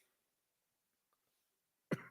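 A single sharp cough bursts out near the end after nearly two seconds of quiet, close and fairly loud.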